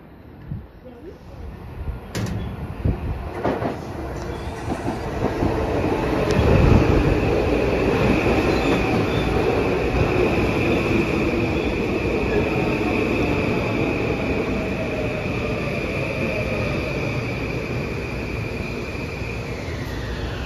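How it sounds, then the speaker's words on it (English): A Metro-North train rolls into Port Chester station in New York, its rumble swelling and then holding steady, with a high metallic whine from wheels or brakes. "Here comes an Amtrak Metro North."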